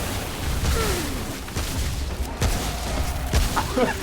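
Explosions go off during a world boss fight against The Ent in the video game Remnant: From the Ashes, three sharp booming blasts cutting through a constant rumbling battle din.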